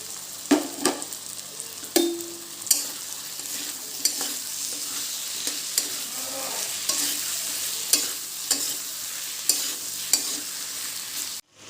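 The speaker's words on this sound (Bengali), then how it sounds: "এর মধ্যে এখন দিয়ে দেবো ঝিঙে।" Ridge gourd frying in a pan, a moderate steady sizzle with periodic scraping stirs and light utensil taps, close up and without voices.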